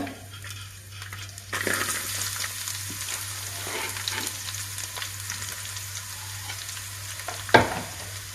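Onions frying in a pan for ghee rice, with a steady close sizzle and occasional stirring scrapes, plus a sharper clank near the end.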